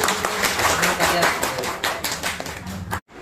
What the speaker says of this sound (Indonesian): Jadi tepuk tangan semangat untuk kita semua ya.